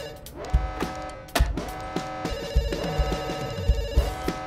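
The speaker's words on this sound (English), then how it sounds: "Please pick up the phone." Telephone in a video game ringing repeatedly in a busy electronic pattern over game music, fairly quiet, with no talking.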